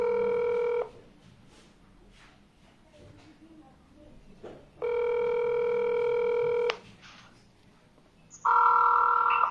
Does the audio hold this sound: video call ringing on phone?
yes